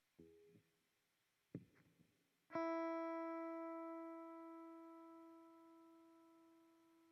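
Two short muted plucks are followed by a sustained note from a Fender VG Stratocaster on its modeled sound that rings out and decays, then stops abruptly as a built-in noise gate cuts it off.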